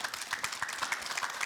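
Applause from an audience at a Russian youth forum on jobs in industrial companies, a steady wash of many hands clapping at moderate loudness, heard briefly and without talk.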